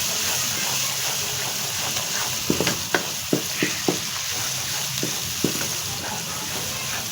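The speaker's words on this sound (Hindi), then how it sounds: "सबसे पहले हम इसमें 1 चमच सूखी मिर्च का डालेंगे। इसको भूनेंगे अच्छी तरह।" Dried red chillies roast in hot oil in a pan for a turnip and pea sabzi, giving a steady loud sizzle and crackle with a few light spoon taps against the pan, and no voices.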